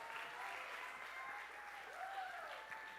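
A church congregation claps together in steady, fairly distant applause, mixed with crowd murmur and a faint voice, sustained for the full few seconds.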